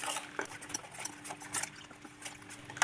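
Ragi flour and salt are stirred in a pot with a spoon, making faint, uneven scraping and scuffing strokes, quiet and close, with no talking.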